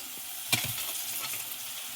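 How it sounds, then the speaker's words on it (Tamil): Soaked soya beans tipped into a frying pan and stirred, a sharp clatter as they land followed by a steady soft sizzle and scraping, close and alone with no voices. "நல்லா கிளறி விட்டுறலாம்"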